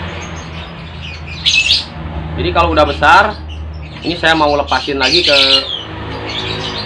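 Baby Paok Pancawarna (pitta) being hand-fed gives a few sharp, high chirps and squawks, with someone talking over the calls in between.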